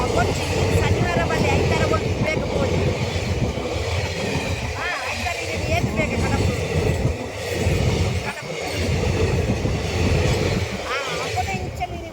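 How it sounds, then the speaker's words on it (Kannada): A train rolls past on a railway track without sounding its horn, a loud, continuous rumble with rhythmic wheel clatter and faint squeals, close by throughout. "ಹಾರ್ನ್ ಇಲ್ಲದೆ ಟ್ರೈನ್ ಬರ್ತುಂಟು"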